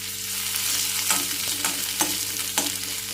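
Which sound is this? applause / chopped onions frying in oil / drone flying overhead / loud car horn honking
chopped onions frying in oil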